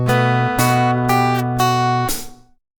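Fingerstyle classical guitar plays a short phrase of the Spanish waltz Vals by Bartolomé Calatayud, clear plucked notes and chords in a steady three-beat pulse, ringing out and fading at the end.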